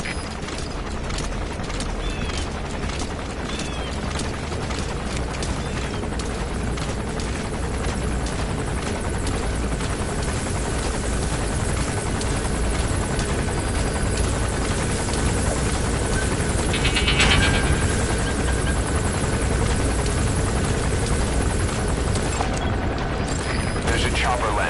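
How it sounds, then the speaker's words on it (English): A helicopter lands in Metal Gear Solid V, its loud, continuous rotor thrum dominating throughout with rhythmic blade chop, a brief mechanical clatter partway through, and steady ambience underneath. "There's a chopper landing."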